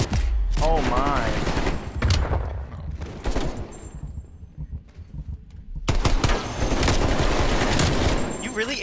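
Bursts of rapid automatic gunfire crack loudly in a Call of Duty Hardpoint match on the Checkmate map, with dense volleys, a brief lull midway, then another sustained barrage.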